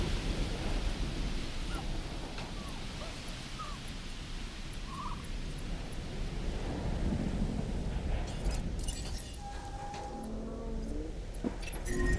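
A calm thunderstorm in the video game Jurassic World Evolution gives a steady, even wash of rain and low rumbling that continues throughout at moderate volume, with a few faint higher game sounds near the end.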